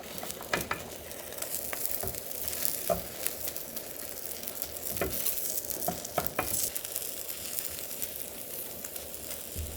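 Seaweed rolled omelette cooking slowly in a pan over very low heat, giving a steady soft sizzle with scattered small crackles and a few utensil taps, close by, with no talking.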